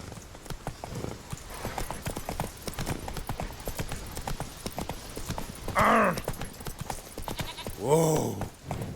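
Roach the horse gallops in The Witcher 3, a quick steady clip-clop of hooves with two short whinnies breaking through partway along, while a voice speaks briefly.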